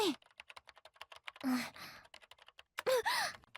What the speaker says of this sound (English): then started to pound at the keyboard